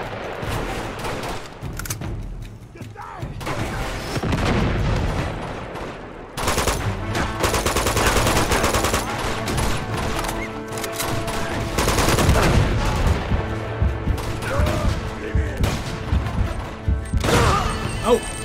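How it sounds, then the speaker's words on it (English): Heavy gunfire and explosive blasts from the Uncharted 2 action video game, dense and continuous with bursts of rapid shots, crashes and a loud impact midway, no one speaking. "I just got hit in the face with a grenade"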